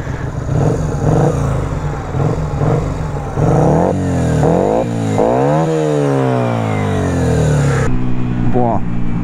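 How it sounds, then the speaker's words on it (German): A Yamaha Virago XV125 125cc V-twin chopper engine revs repeatedly up close, short loud blips climbing and falling in pitch, ending in a sustained high rev. "Ich wollte mich da einmal kurz einen kleinen Soundcheck machen."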